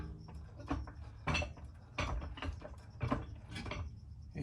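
Ratcheting clicks and metallic knocks as a jack is worked under the front rotor of a 2015 Lexus IS250 during a lower ball joint job, irregular bursts of nearby clatter, no talking.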